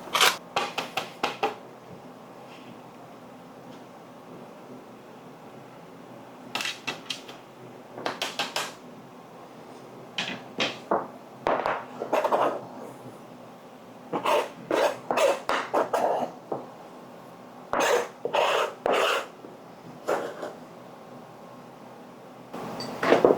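Lemons being zested against a grater, short bursts of quick scraping strokes separated by pauses, close and fairly loud with no talk.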